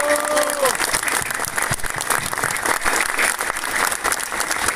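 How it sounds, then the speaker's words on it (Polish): Steady, dense applause from a crowd at an end-of-season ceremony for a third-league football club in Chorzów, loud and close, holding without pause across the whole stretch. "Duże brawa!"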